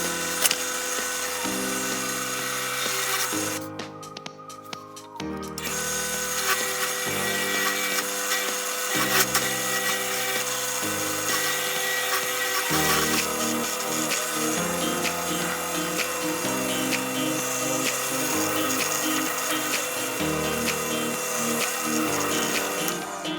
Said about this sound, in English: let's drill the hole out